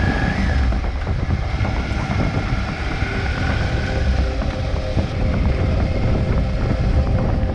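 Small motorbike climbing a steep mountain pass in freezing winter conditions, its engine droning steadily under heavy, continuous wind buffeting on the microphone.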